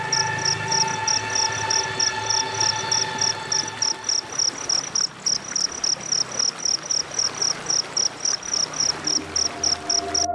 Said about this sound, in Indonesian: Suara malam terdengar samar-samar, dengan nyanyian jangkrik yang bercampur dengan gemericik air